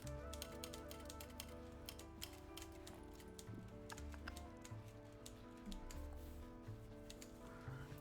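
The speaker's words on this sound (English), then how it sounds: "I also quite like the typing sounds in the background" Keyboard typing runs in the background of a mystery-style scene with a simple, peaceful soundtrack, soft rapid key clicks scattered steadily over sustained music throughout.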